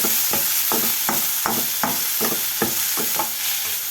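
Garlic and tomatoes sauté in a pan, with a steady bright sizzle under rhythmic stirring scrapes that come roughly twice a second, close and alone without any voices.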